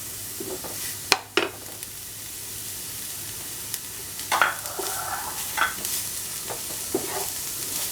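Green chillies and curry leaves sauté in a pan for a red spinach cutlet, giving a quiet, steady sizzle broken by a few sharp clinks and scrapes of a stirring spoon, with no talking.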